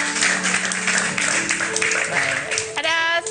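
A studio audience applauds on an Indonesian talk show, a loud, dense wash of clapping under a voice talking over it, with a brief musical sting near the end.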